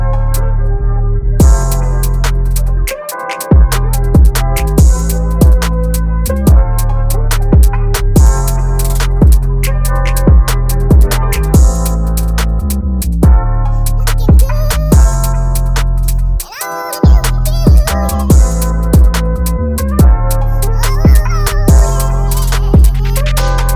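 A full drill beat plays loud and dense: kick, percussion and a sustained melodic sample layered together in a steady driving groove, with two brief dropouts where the beat cuts.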